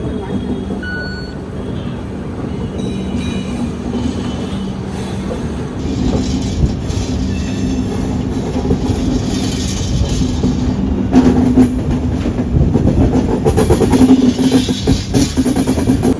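Train rolling into Jabalpur Junction station on West Central Railway, a steady loud rumble of wheels and carriages with clickety-clack and brief squeals, close and continuous with no talk.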